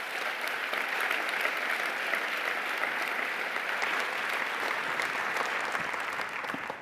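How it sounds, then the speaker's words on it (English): A large audience gives sustained, dense applause for student speakers at an MIT MLK luncheon, a steady wash of many hands clapping that holds level for several seconds and eases slightly at the end. "please give them another round of applause."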